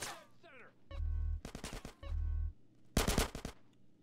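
Gunfire in GTA: San Andreas crackles in several sharp bursts, loud and close, with short gaps between volleys and a low hum underneath.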